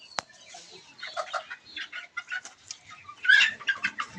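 Sick chickens on a farm cluck in short, scattered bursts, several birds calling close by with brief pauses between, a sharp peep at the start and a louder flurry of clucks near the end.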